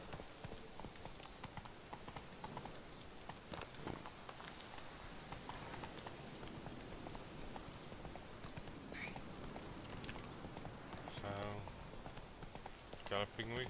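Horse hooves clatter in a steady galloping clip-clop in The Witcher 3 video game, moderately close, running under a voice speaking intermittently to the horse.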